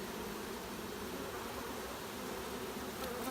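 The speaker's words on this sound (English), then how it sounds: "When they got their butts up in the air and they're flapping their wings really hard, they're releasing a pheromone" A large honeybee swarm in Northport, Alabama hums steadily as the bees march into a new home, fanning their wings hard; a dense, continuous close buzz with no voices over it.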